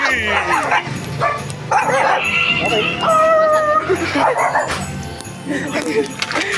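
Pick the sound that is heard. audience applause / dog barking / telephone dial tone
dog barking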